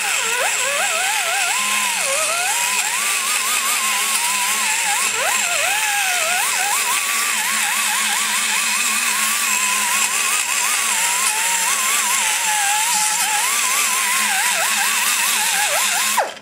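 A power grinder fitted with a straight finger bit whines continuously as it works the ports of a Chevy 350 TBI cylinder head, with a steady high-pitched tone that wavers as the load changes.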